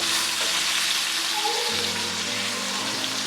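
Pork chops sear in a hot pan for Southern smothered pork chops, a loud, steady frying sizzle throughout with faint background tones.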